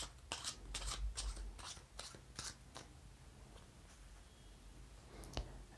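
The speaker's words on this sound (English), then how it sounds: "next what he did is an overhand shuffle" A deck of playing cards gets an overhand shuffle: a run of quick, close, crisp riffling clicks in bursts, then a quieter pause and a final snap.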